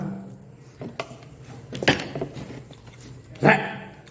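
A dog gives a few short, sharp barks at a distance, scattered over quiet background noise.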